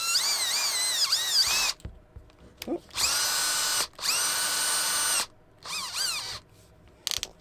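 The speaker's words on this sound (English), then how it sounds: "It's a 5mm drill bit. I'm just going to go straight through." A cordless power drill with a 5mm wood bit boring straight through a workpiece, heard as several loud whining motor bursts with rising and falling pitch, separated by short pauses, close to the microphone.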